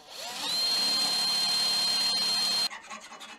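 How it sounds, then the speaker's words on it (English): A power drill whines loudly and steadily for about two seconds as it bores a hole during a BMW M3 Competition repair, then cuts off, leaving a few light scraping handling noises. "So let's go ahead and drill this out real quick."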